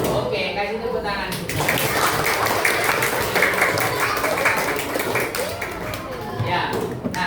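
A classroom group claps for about seven seconds, a dense patter of many hands that swells and fades slightly, with a voice talking over it.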